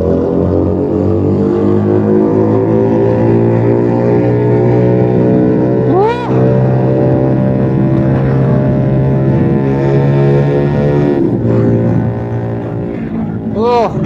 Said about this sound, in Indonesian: Wah gila, makin digas makin enak cuk suaranya.